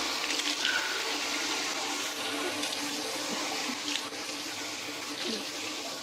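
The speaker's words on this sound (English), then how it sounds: "Then we will wash our face 3 times." Tap water runs steadily into a sink as someone washes their face during wudu, a continuous close splashing hiss with small fluctuations and no talking.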